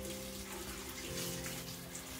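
A tap runs steadily while someone rinses their hands, giving a soft, continuous water hiss with a faint hum underneath, heard quietly and on its own with no talking.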